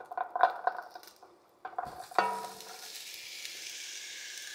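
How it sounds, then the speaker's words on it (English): Mirepoix vegetables dropped into a heated pan of avocado oil for minestrone soup, a few clinks and scrapes of cookware followed by a steady close sizzle. "Now we're going to add our mirepoix."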